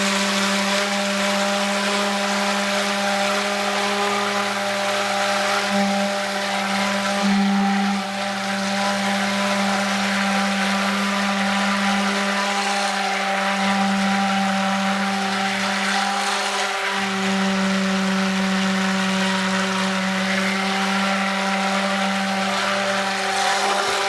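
A blender runs nonstop on oatmeal milk and honey soap mixture, a loud, steady motor whine with a strong hum and slight pitch wobbles as the thick batter churns, with no talking.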